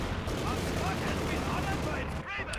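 Machine gun fire rattles in Company of Heroes 2, bursts of rapid shots mixed with explosions and battle noise at moderate level, with a commentator talking over it throughout.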